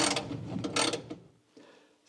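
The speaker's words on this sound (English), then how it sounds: "I'm just using a 1/2-inch socket and a 3/8 drive ratchet" A 3/8 drive ratchet with a 1/2-inch socket clicks as it turns fender bolts on a Scout restoration, giving several close rapid ratcheting bursts followed by a quieter short run.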